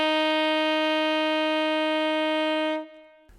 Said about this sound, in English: if we play a C on the alto, it's going to sound like this.